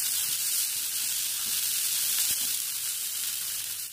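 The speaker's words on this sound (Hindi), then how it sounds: "1 table spoon chop capsicum add करके सब कुछ एक साथ फ्राई करेंगे 3 सेकेंड्स के लिए" Chopped onion and capsicum fry in a pan with a continuous bright, hissing sizzle, close and steady, with one faint tap partway through.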